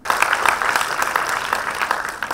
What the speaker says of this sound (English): a round of support for our debaters. Round of applause.